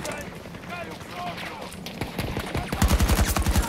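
Rapid automatic gunfire from a gun in the Battlefield video game, fading in with scattered shots and then building into a dense, fast burst over the last second and a half, with faint voices earlier.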